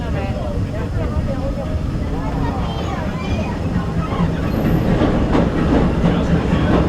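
The Disneyland Railroad train rolls along its rails with a steady, loud rumble and faint rhythmic clatter throughout, while a spoken announcement plays over the running noise.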